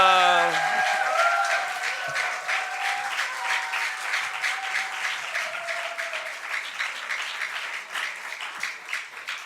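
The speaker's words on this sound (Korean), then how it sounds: "할렐루야로 박수로 모시겠습니다." A church congregation applauds to welcome an elder giving a testimony at a Korean church service, with warm sustained clapping that starts loud and slowly thins out, and a voice speaking briefly at the start.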